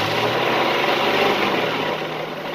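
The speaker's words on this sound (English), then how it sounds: "If I should increase the RPM on the engine" Car engine raised in RPM during a test of a bad alternator, a steady close engine roar with broad noise, holding even before easing slightly near the end, no voices.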